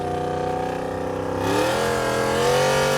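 A 1000hp Ford Bronco's engine hums steadily, then the throttle opens and the revs climb into a loud, rising roar, heard up close inside the vehicle.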